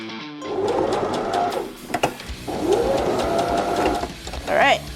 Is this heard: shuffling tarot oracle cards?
no